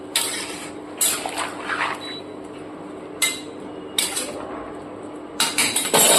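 Metal pot lid clanks and scrapes against a cooking pot of boiling cauliflower and potatoes, several sharp clinks spaced over a few seconds with a cluster at the end, under a low steady kitchen hiss.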